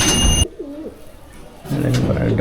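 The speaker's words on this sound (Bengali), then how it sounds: "কালো চোখের পায়রা" Pigeons in a loft give a short close coo between bursts of nearby talk and handling noise.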